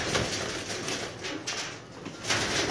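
Pigeons coo softly in a few low, gentle bursts, fairly faint and close, with no talking over them.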